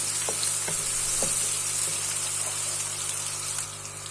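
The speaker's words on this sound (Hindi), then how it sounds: "प्याज थोड़ी सॉफ्ट हो जाएगी तो 1 टेबलस्पून भर के ज़ीरा डालेंगे। थोड़ा सा पका लेते हैं इसको" Cumin seeds fry with softened onions in hot oil, producing a loud, steady, close sizzle with a few faint clicks from stirring; the hiss eases slightly near the end.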